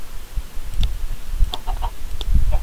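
Chickens clucking in the Minecraft video game, short scattered clucks over a busy low rumble, fairly close and loud with no one speaking.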